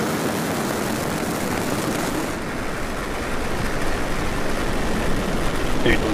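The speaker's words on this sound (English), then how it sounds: "Ignition. And liftoff of Falcon 9." A SpaceX Falcon 9 rocket's engines roar at liftoff from Cape Canaveral, a broad, steady, distant-sounding rumble that swells slightly toward the end.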